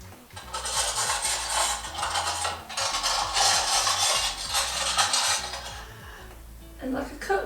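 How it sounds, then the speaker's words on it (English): Metal cutlery rattling and clinking in a kitchen drawer, a loud, busy jangle of spoons and forks shaken in repeated bursts, with a brief pause midway and a quieter clink at the end. "it's cutlery!"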